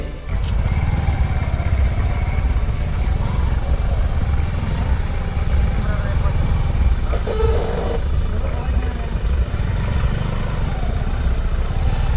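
A motorcycle engine drones steadily at close range for the whole stretch on a dirt forest road, with some rattling and faint engine pitch shifts.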